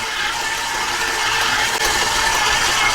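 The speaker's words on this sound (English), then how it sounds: "you're going to want to let the mixer go for about 10 minutes" A stand mixer kneads white sandwich bread dough with cubes of softened butter, giving off a continuous, even mechanical whir and gear grind with no pauses.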